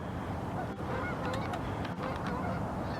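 Geese honking close by as a pair drops in to land behind a hunting blind among decoys, several bright calls bunched together over a steady outdoor background.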